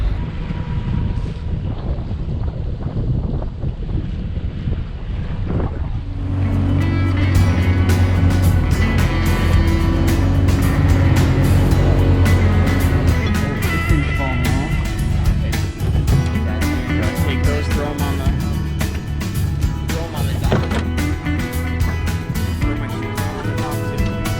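Many motorboats at a large on-water boat party drone loudly nearby with heavy wind buffeting, a continuous roar that swells after a few seconds and holds steady.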